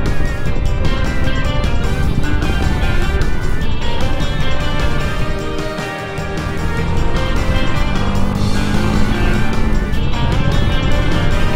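Motorcycle cruising along the Katsura River on a clear winter day, a continuous close engine hum with wind rush, briefly dipping midway before building again.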